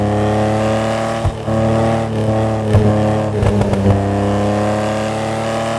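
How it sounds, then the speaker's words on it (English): A Benefactor Stirling GT sports car in GTA Online, modeled on the real Mercedes-Benz 300 SL, holds a steady, loud engine drone with a few brief revs and pops, and no voices over it. "This car has one of the best sound engines in the game."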